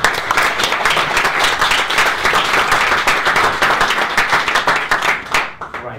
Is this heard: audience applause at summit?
yes